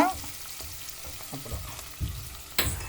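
Onions frying in a pan for chicken curry give a soft, steady sizzle with light scraping and stirring knocks, close and fairly quiet, with a brief louder clatter near the end.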